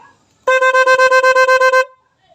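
A loud e-bike snail horn with an interrupter blares in rapid pulses, about a dozen quick beeps in an even stuttering rhythm, then stops abruptly.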